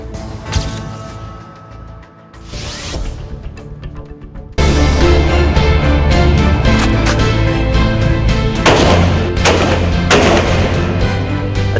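Soldiers firing weapons in heavy, sustained bursts, loud and close, growing denser and louder halfway through, with no talk over it.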